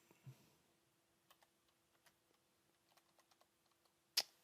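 A computer keyboard typed on in short, light clicks through several seconds while Python plotting code is entered, quiet and close, with one sharper key strike near the end and no talking.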